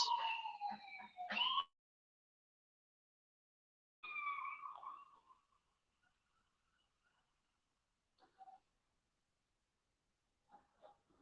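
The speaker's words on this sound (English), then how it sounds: "You probably hear some sirens." Distant sirens wail in short bursts with long silent gaps between, faint and fading toward the end.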